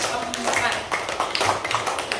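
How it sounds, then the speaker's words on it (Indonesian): Classroom applause from students for a group after its presentation, a burst of rapid hand claps under an adult voice and chatter. "tepuk tangan untuk kelompok"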